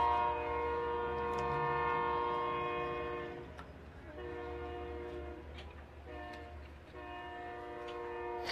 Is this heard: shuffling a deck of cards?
no